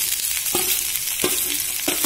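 Okra sizzles in a little oil in a hot pan, a constant frying crackle broken by three distinct scraping strokes of a spatula stirring it, close and clear, with no voices.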